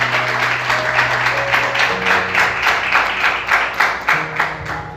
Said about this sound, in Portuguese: Você consegue aplaudir Jesus bem forte?